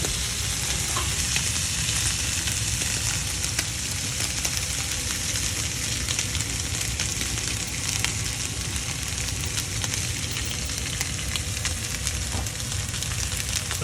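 Steak sears in a very hot pan, a loud, dense, unbroken sizzle and crackle of frying that holds steady from start to finish with no voices over it.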